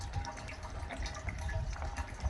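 Sea Foam additive pours steadily nearby with a low gurgling rush and faint splashing, continuous and moderately quiet.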